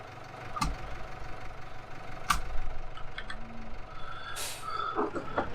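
An idling model tractor engine in a model railway scene gives a low, steady hum. Sharp clicks and a few brief high beeps and hisses break in over it.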